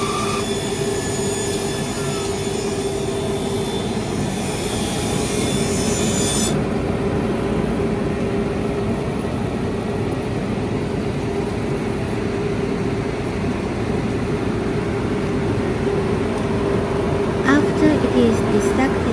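A toothpick production machine saws wood into thin 2.5 to 2.6 mm strips, a steady loud rasping grind with a constant mechanical whine running throughout, close by.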